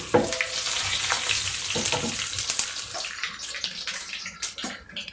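Five whole red chilies, cut, sizzle in a pan of hot oil with curry leaves for a Kerala cucumber pulissery, a steady close crackling hiss with scattered pops and no voices.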